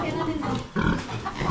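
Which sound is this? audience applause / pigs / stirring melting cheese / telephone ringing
pigs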